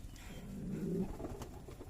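A single soft, low pigeon coo swells and fades at a pigeon farm in Bangladesh, heard fairly close over a quiet background.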